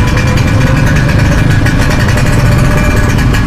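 Vespa scooter engine running close by on a night street, a loud continuous rough drone that stays steady and masks other sound.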